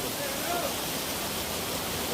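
Steady, dense rush of the Ladai waterfall, with water pouring down from the hills in a continuous broadband roar, close and fairly loud without a break.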